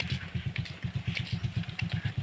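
A motorcycle engine labors uphill, its low, steady pulsing throb close and continuous, with faint crackle and clatter above the rumble.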